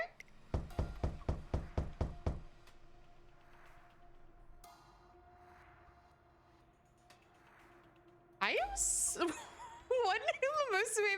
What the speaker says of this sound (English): As the thumping on the door echoes throughout the room